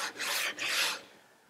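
A wooden guitar fretboard is sanded to a radius, giving two quick rasping strokes up close, separated by a brief pause and then trailing off.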